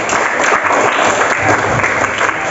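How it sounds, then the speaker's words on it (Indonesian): Classroom applause for a student group in a teacher-training lesson, a steady dense clapping from many hands filling the whole stretch, fairly loud and close with no talk over it. "Oke, tepuk tangan untuk kelompok 1."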